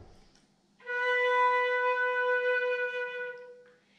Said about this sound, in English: What I need to do to play my flute is I have to blow the air across this hole here